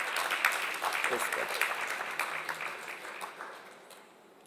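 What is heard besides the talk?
audience round of applause at a celebration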